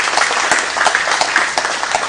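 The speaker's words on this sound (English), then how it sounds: "give Ray and the leadership team a round of applause for putting this together" Audience applauding at a county Republican meet-the-candidates meeting, a steady dense wash of many hands clapping throughout, fairly loud and even, with no voices over it.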